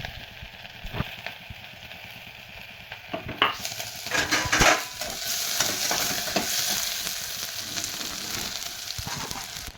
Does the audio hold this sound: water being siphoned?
no